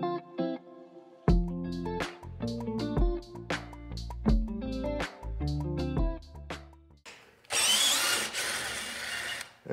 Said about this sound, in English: that's that screwdriver drill. It'll still put it in there, you know.